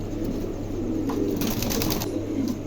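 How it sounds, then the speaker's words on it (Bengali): A pair of pigeons at a wholesale pigeon market coo softly in low, repeated murmurs over a constant background hum, with a few faint chirps. "চমৎকার একজোড়া কবুতর"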